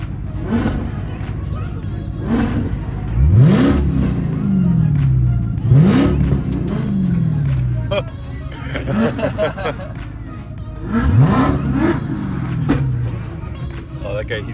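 Drift cars at Formula Drift Long Beach rev their engines in a revving match, loud bursts that sweep up and fall away several times over a crowd murmur, with faint voices in the background.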